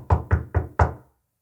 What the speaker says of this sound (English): So we hear a knock on the door.